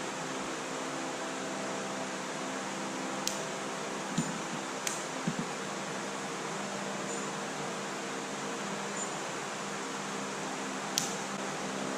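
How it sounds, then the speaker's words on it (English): Tumbler turner motor switched on and running, a steady low mechanical hum with faint hiss, broken by a few soft ticks and clicks, with no voices. "as soon as you throw the switch, light comes on and the motor turns"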